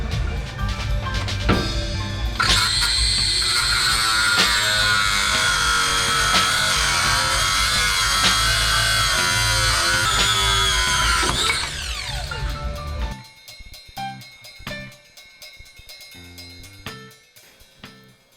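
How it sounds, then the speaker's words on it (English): A cutting wheel grinds off a seized nut on a red truck, a loud continuous high-pitched whine with shifting pitch for about twelve seconds, then it stops and scattered clanks and handling noises follow. "get a cutting wheel underneath of it to make it a little bit easier to cut the thing off"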